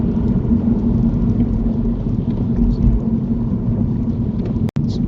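Car engine heard from inside the cabin during a driving lesson, a steady low rumbling drone that fills the whole stretch with a brief dropout near the end and no talking.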